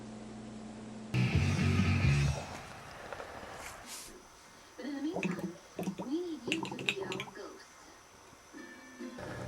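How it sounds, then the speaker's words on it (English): Spring water is poured from a jug into a yeast fermenter to top it up, a brief splashing pour that then gives way to quieter dripping and sloshing while people talk nearby. "we're adding some spring water here to top it off"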